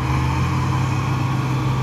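A tractor hauling a load of sugarcane during the harvest, its engine giving a steady, loud, close droning roar under acceleration with no pause across the short stretch.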